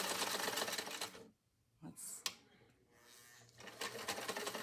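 A vintage Singer Spartan 192k sewing machine stitching tissue paper, its fast rhythmic mechanical chatter close and steady, dropping out briefly for a quiet gap with a couple of clicks before running again.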